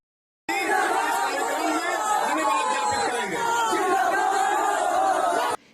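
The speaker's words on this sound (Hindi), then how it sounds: "लोग मंच पर चढ़ते ही नीतीश कुमार की हूटिंग करने लगे।" A large political rally crowd in Tarapur, Bihar, hoots and shouts at Nitish Kumar on stage, a dense, loud, continuous roar of many voices lasting the whole stretch before cutting off abruptly.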